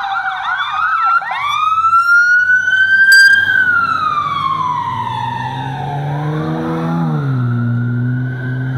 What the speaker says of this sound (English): shut those fucking sirens off